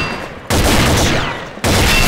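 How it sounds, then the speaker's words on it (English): Gunfire in the shooter video game Combat Arms, two loud bursts of rapid shots, the second cutting in abruptly after a brief drop. "Stop! Why are you shooting me?"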